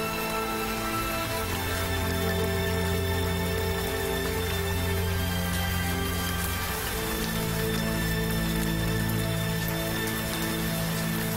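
Steady rain falls without a break in a village setting in Yunnan, China, a dense continuous patter and hiss on surfaces that stays loud throughout with no voices.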